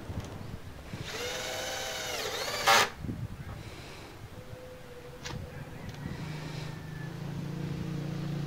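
A power drill drives a temporary wood screw while building a vendo wifi cage, one loud motor whir rising in pitch for about two seconds, then quieter handling knocks and a low hum.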